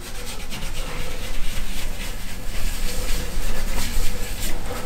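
Ink being wiped from an intaglio printing plate by hand, a steady, loud rubbing and scraping that continues without pause throughout, with no voices.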